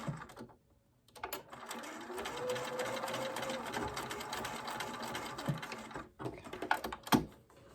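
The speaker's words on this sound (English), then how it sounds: "I'm going to stick this one back under and get that seam so I can back tack it" A sewing machine stitches back and forth over a fabric seam to back-tack it, its motor running in a steady, close whir for several seconds, broken by brief pauses and a few clicks near the end.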